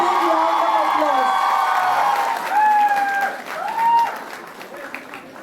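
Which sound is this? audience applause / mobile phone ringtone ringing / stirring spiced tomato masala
audience applause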